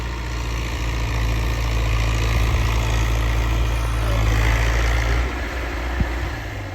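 A New Holland 850 tractor, rigged with a cultivator, runs its diesel engine at a steady idle, a close, constant low rumble with a throbbing drone that holds evenly throughout, no talk over it.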